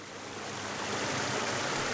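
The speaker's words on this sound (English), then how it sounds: "there's water coming out of the top" Water gushes out of the top of a waterwheel's pipe in a continuous broadband rush, steady and fairly loud, building slightly, with no voices.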